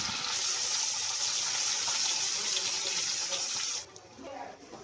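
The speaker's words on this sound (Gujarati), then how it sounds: "આ પાણી રેડીશું આપણે" Water pours steadily into a pan of mung beans with garlic and red chilli, a continuous close gush that stops abruptly near the end, leaving faint kitchen noise.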